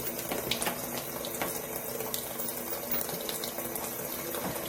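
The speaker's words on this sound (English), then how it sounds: "So then what you do with your Come Clean is you just rinse it out" A makeup brush rinsed clean of brush and sponge shampoo under a running tap, a steady close splash of water flowing into a sink throughout.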